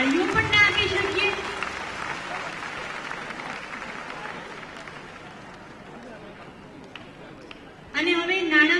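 An audience at a Jan-Dhan Yojana launch event in Ahmedabad applauds Anandiben Patel with a sustained wash of clapping for several seconds, with a voice speaking over a public address system just before and after.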